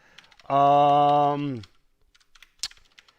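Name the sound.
typing on a computer keyboard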